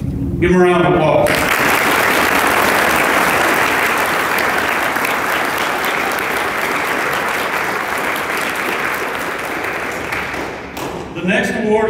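Steady, dense applause from a large crowd fills an awards banquet at a youth challenge academy, running loud and unbroken for about ten seconds. Brief talk is heard just before it starts and again as it fades.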